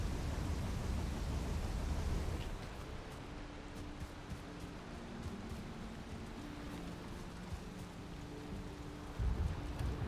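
Rain falls in the video game Valheim as a continuous broadband hiss, heavier at first and then easing to a steady wash with a faint low hum beneath, with no talk.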